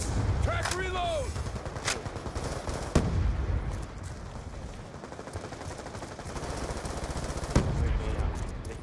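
Gunfire from a team deathmatch in Black Ops 2, with sustained automatic fire and a few sharper single shots, loud and steady throughout, mixed with game effects and a voice talking over it.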